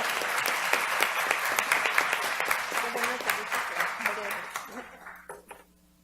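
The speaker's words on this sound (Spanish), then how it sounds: "Démosle un aplauso a la doctora, por favor" Sustained applause from an audience at a public-health and mental-health rights event in Mexico, dense clapping that stays loud and steady before thinning out near the end.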